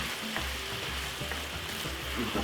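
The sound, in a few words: beef stir fry sizzling with oyster sauce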